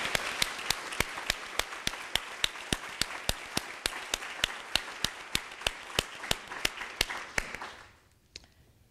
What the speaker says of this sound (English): Let's give our development team and all of the rest of us a round of applause.